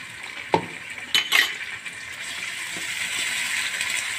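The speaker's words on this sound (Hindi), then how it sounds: "अब इसको मैं हल्का सा फ्राई करूँगी और इसमें ऐड करूँगी 1 टेबल स्पून अदरक लहसुन का पेस्ट।" Onion frying with ginger garlic paste in a pan while cooking kadhi pakora, with a low steady sizzle building up and a few sharp clinks of a spoon stirring against the metal pan.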